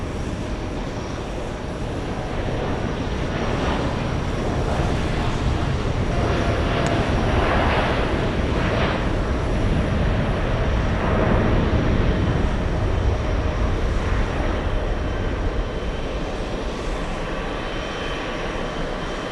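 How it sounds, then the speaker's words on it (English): An American Airlines 787 Dreamliner on its takeoff roll at JFK, a sustained jet engine roar that swells gradually and stays loud and broad for the whole stretch. "Let's go for the American Airlines 787 Dreamliner. It's on the roll."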